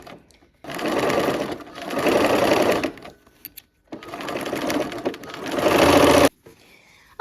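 A sewing machine stitches curved quilt piecing in two loud, close bursts of rapid whirring, each a few seconds long, separated by a brief quiet pause with small clicks, then stops.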